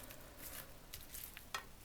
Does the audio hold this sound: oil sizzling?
yes